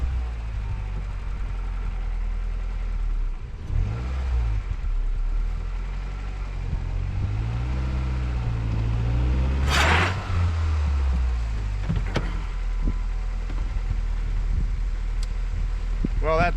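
A Ford Fusion with a flat rear passenger-side tire revs its engine while trying to back out on snowpack, a low rumbling hum that swells and falls under people talking.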